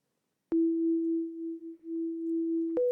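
A pure, smooth sine-wave tone from Logic Pro X's '80s Sine' synthesizer preset sustains steadily for a couple of seconds, then steps up briefly to a slightly higher pitch, clean with no other sounds.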